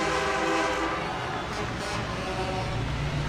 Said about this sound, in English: the horns are honking right now, and the fans are loving it